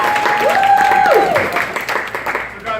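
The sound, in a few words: audience applause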